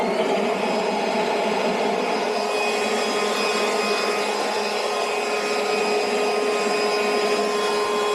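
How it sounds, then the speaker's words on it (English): A 190 mph electric leaf blower running on its lowest speed setting gives a steady, even whine and airy rush, continuous and close with no pauses. "That's the speed number 1, and see, you can hear that it's not that loud like the other ones."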